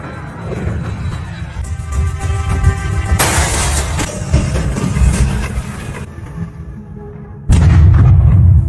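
A volcanic eruption in the disaster film La Palma plays out as crashing, shattering blasts and rolling rumbles, ending in a sudden, heavy, sustained roar near the end.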